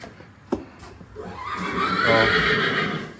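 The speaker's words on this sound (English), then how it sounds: "Let's see how the horses are doing" A horse whinnies loudly and close by, a long wavering neigh rising and then fading over a few seconds, preceded by a brief knock, in a stable of mares.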